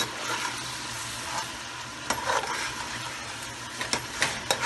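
Coarsely ground tomatoes with fresh coriander, mint and green chilli fry in a pot for biryani: a soft continuous sizzle broken by a few sharper stirring scrapes near the end.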